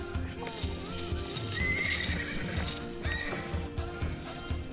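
A horse whinnies loudly and close by at a ranch with a skywalk in Palawan, while hooves clip-clop in an uneven rhythm beneath it and faint chatter from people comes and goes.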